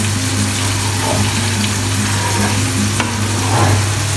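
Crushed tomatoes and shrimp paste sauté in a pan for kare-kare, giving a continuous loud frying sizzle up close over a steady low background hum, with occasional stirring scrapes.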